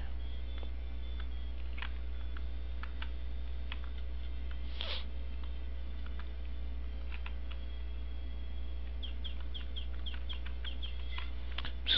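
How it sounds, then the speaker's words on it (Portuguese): A sick chicken clucking in the Harvest Moon farming video game, faint scattered clucks over a constant low hum with no speech. "tem uma galinha doente"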